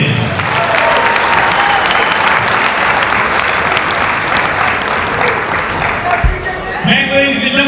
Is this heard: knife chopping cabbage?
no